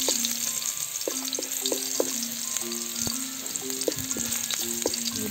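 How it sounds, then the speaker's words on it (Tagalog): Garlic sizzles steadily in a hot pan while cooking for a kinamatisang lechon dish, with a continuous frying hiss and occasional utensil clinks and scrapes, close and fairly loud, no talking. "Mag-start tayo sa pag-isa ng bawang"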